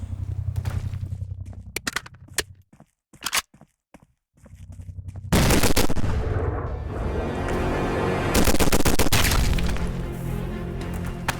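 Gunfire in a Roblox gun game, with sparse sharp shot bursts early on, then dense loud continuous firing and explosive crashes from about five seconds to the end.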